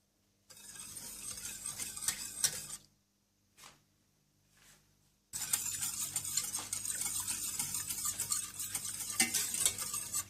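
Milk heated in a pan with coffee and three tablespoons of sugar, stirred with a spoon for a tiramisu: steady scraping and stirring, a brief pause with a few faint clinks, then continuous stirring again.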